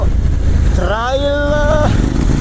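A Kove 800 X Pro adventure motorcycle is ridden on a trail, its engine note rising in pitch as it accelerates and then dropping away, over steady close wind rumble.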